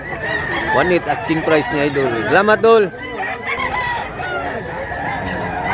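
Roosters at a chicken market crow loudly and repeatedly, with stretched, wavering calls overlapping clucks while people talk close by.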